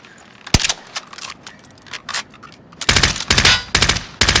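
Gunfire in Call of Duty: Modern Warfare, with sharp single shots early on giving way to dense rapid automatic bursts in the latter half, loud and close, with no voices over it.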